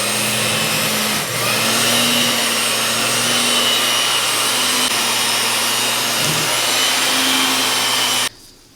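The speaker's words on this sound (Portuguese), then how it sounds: "Porque eu vou bater com a batedeira agora." Electric mixer beating cake batter for a Leite Ninho cake, a loud close continuous motor whir with small pitch wobbles before it abruptly switches off near the end.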